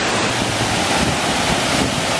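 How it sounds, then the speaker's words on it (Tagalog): Strong wind roars steadily across the microphone, a dense, unbroken rushing noise throughout. "Sobrang lakas ng hangin at napakalamig."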